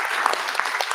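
Brief burst of audience applause for an honoree at a festival gathering, crisp overlapping claps from a modest crowd heard close and fairly loud for about a second.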